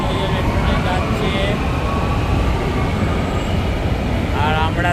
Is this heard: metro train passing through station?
yes